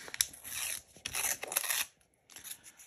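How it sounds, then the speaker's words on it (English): Scrap paper torn by hand in a few quick, close ripping bursts with short pauses between, a dry rasping tear standing alone without talk. "I'm just ripping a piece of paper off"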